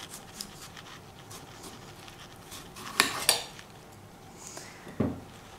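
A knife cuts a cucumber in half on a board during maki preparation, giving a few quiet taps and a sharper clack near the middle and another near the end, with soft kitchen clatter between.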